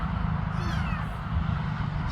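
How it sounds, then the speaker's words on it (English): A stray kitten meows softly at a distance, a brief thin cry over a steady low hum of background noise. "Oh, the little kitty cat."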